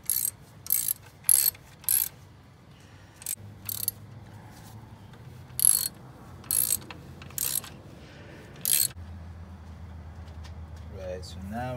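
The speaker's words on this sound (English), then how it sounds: "all you're going to do is line up your holes and just start bolting them in." A ratchet wrench bolts down the valve cover on a Nissan D21 pickup, sounding as several short bursts of close, quick clicking, separated by pauses filled with quiet background noise and a bit of speech.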